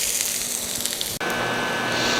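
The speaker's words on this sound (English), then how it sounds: "Some fresh white onion, diced up, and then fried lightly." Diced fresh white onions sizzle and fry lightly in a pan with a little rendered fat, a steady close hiss that cuts out briefly and resumes, with no talking.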